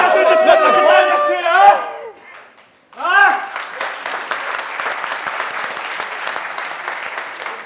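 Audience applause from a studio crowd during a comedy TV episode: a dense burst of clapping with cheering that dips briefly and then resumes steadily, with voices mixed in at the start.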